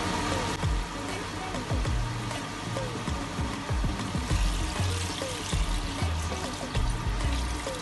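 Water poured into a cooking pot holding chicken and lemongrass for a village-style tinola with cassava, a steady splashing trickle close by with faint clinks, no talk over it.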